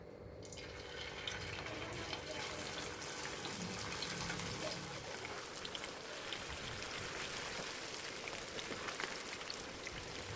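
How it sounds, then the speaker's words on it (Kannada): Mushroom Manchurian pieces fry in hot oil with a dense, continuous sizzle and crackle, fairly quiet and steady throughout with no talking. "ಎಣ್ಣೆ ಕಾದಿದೆ, ಎಣ್ಣೆಗೆ ಹಾಕ್ತಾಯಿದ್ದೀನಿ."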